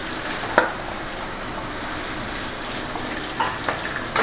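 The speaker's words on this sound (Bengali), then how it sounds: "এবারে আমি মাছের মাথাগুলো এক এক করে ছেড়ে দিচ্ছি মাছের মাথাগুলো ভেজে নেব" Fish heads go one by one into hot mustard oil, and a low, even sizzle follows, with a couple of sharp clinks and splashes as pieces drop in. No voices.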